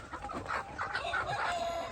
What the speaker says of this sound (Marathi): हे बघा कोंबडा बघा हे कोंबडे बघू शकता तुम्ही